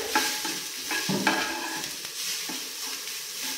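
Spices with asafoetida and turmeric are stirred through hot oil for samosa filling, a close sizzle broken by a few scraping spoon strokes against the pan, with no talking.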